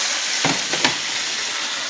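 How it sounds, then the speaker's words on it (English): Steady hiss and crackle of sausages frying in a pan, with a couple of brief louder sizzles or stirs near the start. "now we have our sausages are frying really well"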